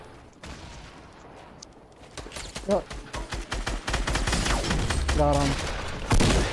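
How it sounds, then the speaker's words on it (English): Fortnite gunfire, a run of sharp shots building to rapid repeated bursts, close and loud, with players talking over the shooting. "They're shooting us"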